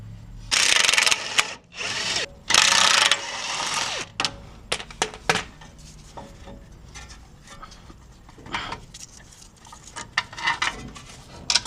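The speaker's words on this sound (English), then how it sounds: "I will take the caliper bolts out and put the calipers away." Bursts of a ratcheting tool spinning brake caliper bolts out of a Toyota 4Runner or Tacoma in short runs, followed by scattered clicks, clanks and metallic handling sounds close by.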